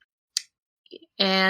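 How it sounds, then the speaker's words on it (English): A cat gives a drawn-out, harmonic meow near the end, after a couple of soft clicks and faint rustles in an otherwise quiet room. "That was my cat."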